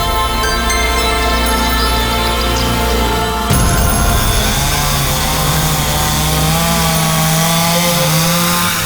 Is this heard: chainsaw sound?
yes